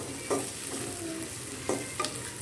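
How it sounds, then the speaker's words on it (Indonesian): Spice paste sautés in a pan for quail egg and vegetable soup, a continuous close sizzle with a few soft spatula scrapes and no voices. "bumbu tadi kita tumis sampai wangi dan garing ya guys"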